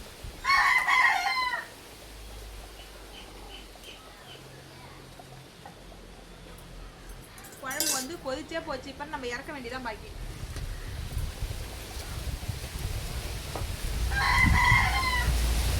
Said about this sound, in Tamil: இந்த கோழி இது தொல்லை கோழி தொல்லை